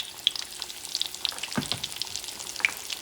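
Scallops crackle and spit in a hot pan, a dense, close run of sharp sizzling pops lasting throughout, with a brief louder burst partway through.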